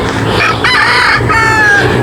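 A rooster crows loudly and close on a Philippine farm where brood hens are kept, a long drawn-out call over background clucking from the flock. No one speaks.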